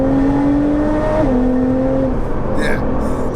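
Tuned 820bhp hybrid-turbo Nissan GTR engine downshifting, a loud, steady low drone that steps down in pitch partway through and then settles, with voices present alongside.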